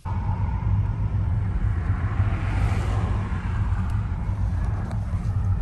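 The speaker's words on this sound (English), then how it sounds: "Traffic on traffic on traffic." Steady road traffic rumbles continuously near Manchester, with cars passing in a low, constant roar and no voices over it.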